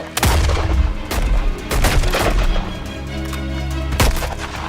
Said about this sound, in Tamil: நிறுத்தாம சுடுங்க